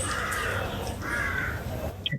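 A crow caws repeatedly, two harsh drawn-out calls at moderate distance, heard over a quiet indoor room background with no talking.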